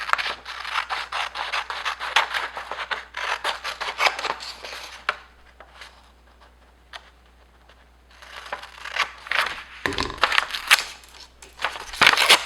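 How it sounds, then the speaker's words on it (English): Scissors cutting a corner out of printed cardstock for a pop-up card, with bursts of crisp snipping and rustling up close, a quiet pause in the middle, then more cutting and paper handling. "I'm going to cut out a corner."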